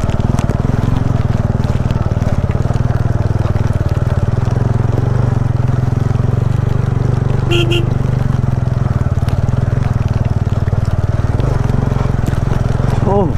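Engine of a vehicle on an extreme off-road ride near Mirik toward the Indo-Nepal border, picking its way slowly along a slippery track, running as a steady, close, continuous drone with someone speaking over it.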